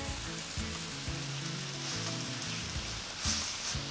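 Onions frying in olive oil on high heat over a gas stove with ground turkey, a soft steady sizzle with a few light knocks and scrapes underneath.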